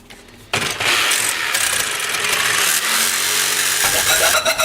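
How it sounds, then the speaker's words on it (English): A jigsaw fitted with a metal-cutting blade starts abruptly and saws through 14 gauge steel with a loud, continuous harsh buzz, close by and with no voices. "so I get out the jigsaw with a metal cutting blade and make some noise"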